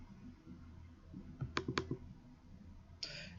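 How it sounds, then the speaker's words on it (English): A computer mouse gives a quick cluster of soft, near clicks, like a double-click, in a quiet room, followed by a faint rustle. "So if you double click on them"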